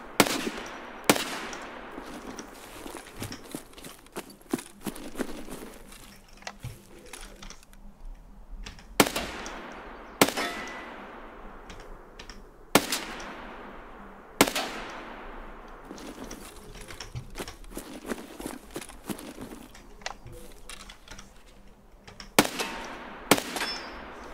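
Sharp 9x19 pistol shots ring out in Escape from Tarkov, fired with Pst gzh and Pso gzh ammo, a dozen or so loud cracks spaced irregularly with clattering mechanical clicks and reverb tails between them.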